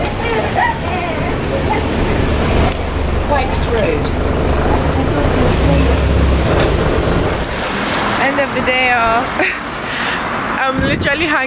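Strong wind buffets the microphone outdoors in London, a loud, steady roar throughout, with people talking over it at times and brief clearer vocal sounds near the end.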